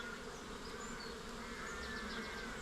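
Honey bees buzzing around an open hive during an inspection after winter, a faint, steady drone that carries on without a break, with no talk.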